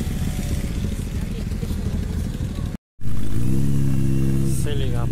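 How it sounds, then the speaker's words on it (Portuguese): Motorcycles rumble and rev at a roadside stop, a dense loud engine roar broken by a brief cut, then one bike idling close and revving up, with crowd noise beneath. "Lotado de moto aqui."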